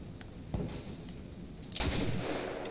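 Several gunshots go off in The Last of Us video game, a sharp one early, then a louder burst with a rumbling tail near the end, all fairly faint overall.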